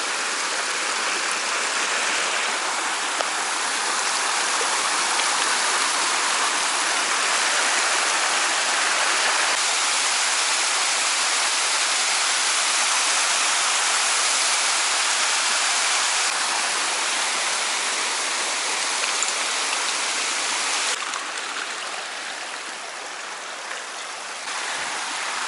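A waterfall on the Yassi (Aksai) river roars in a dense, steady rush of falling water, close and loud, unbroken for the whole stretch.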